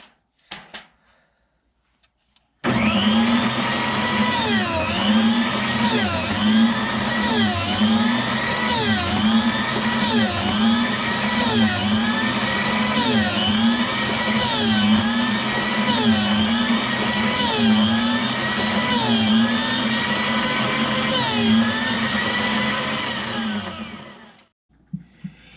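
Small electric meat slicer cutting smoked pork loin, a continuous loud motor whir with a repeating rhythmic rise and fall as each slice passes the blade, running about twenty seconds before stopping.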